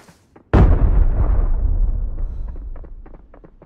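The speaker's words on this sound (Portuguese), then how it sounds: "Granada ali." A grenade goes off in the shooter game Arena Breakout, a single loud, close blast with a sharp onset that decays into a long rumbling tail, with faint clicks and footsteps around it.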